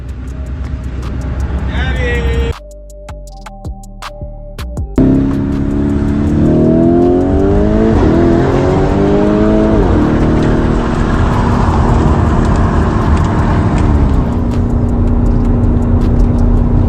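A car accelerates hard along a road. Its loud, close engine drops briefly near the start, then roars back and climbs steadily in pitch as it speeds up.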